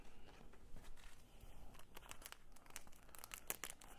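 Packaging for Indian Scout motorcycle driver peg parts crinkles and tears at close range, a steady run of soft plastic rustles and sharper crunches with no talking.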